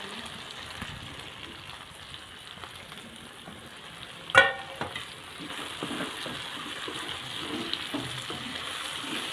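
Steady sizzling of vegetables frying in a pan, cucumbers among them, fills the clip, with a brief louder clatter midway like a lid or utensil, and no voices.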